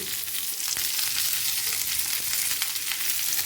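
Pirandai, the adamant creeper, sizzling and sautéing in a pan for chutney, a steady close frying hiss with faint stirring scrapes and no talking.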